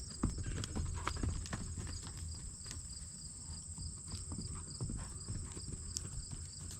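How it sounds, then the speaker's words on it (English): Hoofbeats of a horse in a cross canter, soft, uneven thuds and clops at a moderate distance, with a steady insect or cricket drone running high over the whole stretch. "This was a cross canter."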